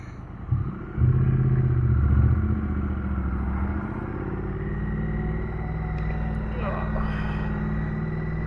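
A Triumph Bonneville motorcycle pulls away through first and second gear, its engine rumbling loud and close with a rise in revs before settling into a steady drone, with a rider talking over it.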